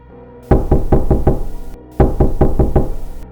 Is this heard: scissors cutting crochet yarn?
no